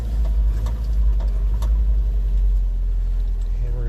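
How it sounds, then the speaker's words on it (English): A small truck engine fires up and settles into a steady low rumbling idle, close and continuous, with a few faint clicks over the top. "Should fire right up. It does."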